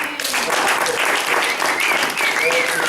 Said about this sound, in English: let's just give a clap offering to the Lord